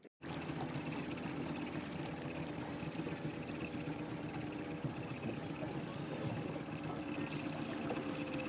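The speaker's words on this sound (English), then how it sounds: "We're going to pull the engine up," A sailboat's outboard engine runs at a steady idle near a small island, a continuous mid-pitched drone that starts abruptly and holds even and close throughout, with no clear speech.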